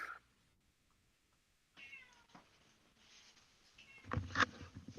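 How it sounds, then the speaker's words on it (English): A cat meows several times, faint and somewhat distant, with short drawn-out cries spread over a few seconds of otherwise quiet room. "I don't know who's meowing. But it's not me."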